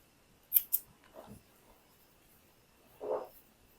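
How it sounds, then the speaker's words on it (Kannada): Scissors trim loose threads from a stitched puff sleeve in a quiet room, two quick close snips followed by softer cuts and one more snip a moment later. "ಸ್ವಲ್ಪ ದಾರ ಟ್ರಿಮ್ ಮಾಡ್ಕೋತೀನಿ"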